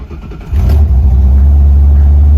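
A Shelby Cobra fitted with Holley Sniper EFI cranks briefly, then catches and settles into a loud, steady, deep idle rumble close by.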